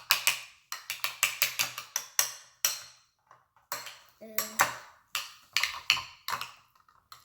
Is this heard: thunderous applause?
no